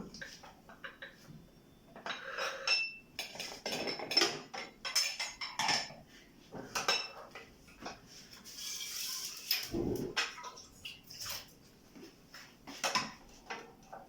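A small metal pressure cooker pot is handled on a kitchen counter, with irregular metallic clanks, scrapes and lid clinks spread across the span and faint background noise.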